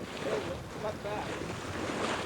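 Mid-Atlantic ocean swells wash around a sailboat, a soft, low rushing of water with wind noise, faint and continuous over a brief moment, with no voices.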